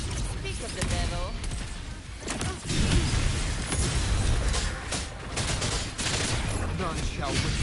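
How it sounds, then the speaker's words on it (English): Mortar barrage hurled at the player in Wuthering Waves, a dense run of booming impacts and rapid gunfire-like bursts that continues without a break across the whole stretch. "Another mortar thrown at us."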